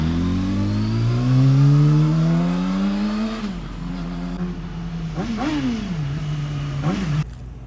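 A superbike engine revs hard and climbs in pitch, then drops to a rumbling idle punctuated by several sharp throttle blips, loud and close with no talk.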